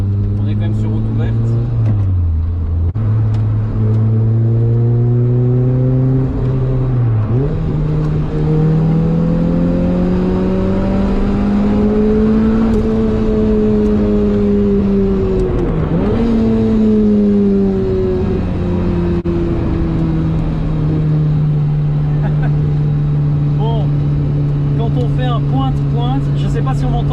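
A Lotus Exige S2 sports car drives on an open public road, its engine note steady and close, rising and falling through the gears with a shift dip, under continuous loud talk from inside the cabin.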